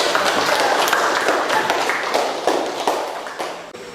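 Audience applause in a classroom teaching session, a dense steady wash of many hands clapping that carries on throughout and fades slightly toward the end.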